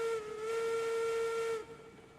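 Steam locomotive whistle in the RAILROADS Online video game: one loud, sustained steady tone lasting about a second and a half, then cutting off into a soft hiss.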